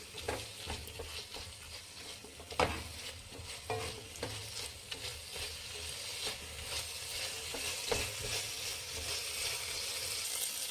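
Capsicum frying in oil in a pan for hotel-style egg rice, a steady close sizzle broken by scraping stirs and occasional sharp spatula clicks, with no voices.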